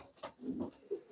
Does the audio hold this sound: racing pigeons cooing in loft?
yes